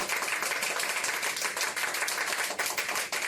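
An audience claps at the Odisha Citizens Award 2023 ceremony, giving a dense, steady wash of applause from many hands that runs for the whole stretch without voices.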